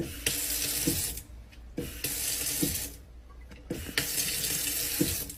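Water from a tap-activated kitchen faucet runs into a sink in three bursts, each gushing for about a second with short quiet gaps between, close and steady.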